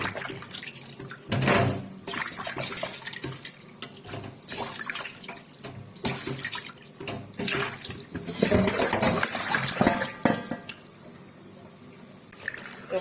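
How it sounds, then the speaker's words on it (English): Meat being rinsed in a bowl of water, with water running, splashing and sloshing in uneven bursts and brief drips, close by and with no talking. "So I'm going to be washing again for the last time in my bowl."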